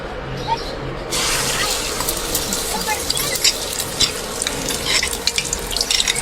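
Oil heats and sizzles in a pan while eggs are fried in a Bengali home kitchen, a steady loud crackle with scattered popping that picks up sharply after the first second, alongside clattering from the pan.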